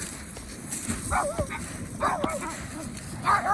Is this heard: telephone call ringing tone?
no